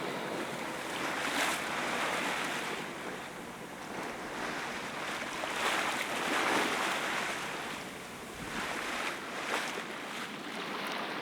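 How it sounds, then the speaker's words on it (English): Waves wash and surge steadily around a boat on open water, with rushing wind noise swelling and fading in slow, broad waves. "So here we are out on the open water."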